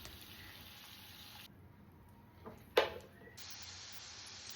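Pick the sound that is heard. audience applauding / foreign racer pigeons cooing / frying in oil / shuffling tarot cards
frying in oil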